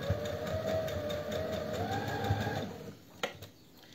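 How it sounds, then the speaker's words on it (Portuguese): Sewing machine stitching along one side of a zipper on a cotton zip pouch, a steady close mechanical whir with rapid needle rhythm running nearly three seconds, then stopping, followed by a couple of soft handling clicks. "eu agora vou costurar este lado e vou ter sempre o cursor cá no fim, que ele não sai dali"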